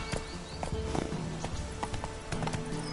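Roach the horse gallops in The Witcher 3, hooves striking in quick uneven bursts at moderate volume alongside faint snorts and background game ambience.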